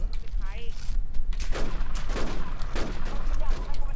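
Gunfire in an online shooter game crackles in dense bursts, loud and close, mixed with game sound effects and an excited voice speaking over it.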